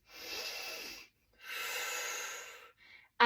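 Deep breathing during a back stretch: two long, close, audible breaths of air drawn in and pushed out, then a short softer one, with nothing else around.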